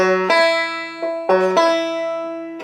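Several plucked banjo notes sound alone in a quick, uneven sequence, with bright twangy attacks and the open first string, plucked with the middle finger, ringing and sustaining between plucks.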